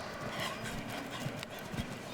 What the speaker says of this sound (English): This horse is jumping very well right now.